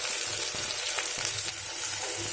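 Chopped onion, a whole green chilli and chopped garlic frying in hot oil in a pan, a steady close sizzle with a few soft clicks of stirring, no voices.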